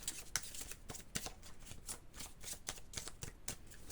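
Oracle cards being shuffled by hand, a quiet close run of soft papery riffles and taps repeating in quick irregular bursts, with no talking.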